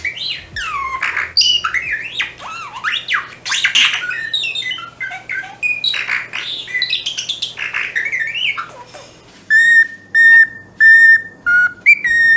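Birds imitating Star Wars film sound effects whistle, squawk and chirp in rapid, sweeping, zapping tones, followed by a run of repeated short beeping whistles, close and clear with no talk.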